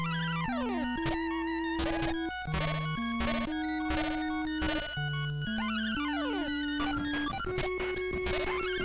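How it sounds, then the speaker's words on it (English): The Moon stage theme from DuckTales on the NES plays as bright 8-bit chiptune music, with stepping square-wave melody lines, rising and falling arpeggio sweeps and a buzzy bass, steady and continuous without any speech. "The Moon theme is easily one of the best songs in all of 8-bit."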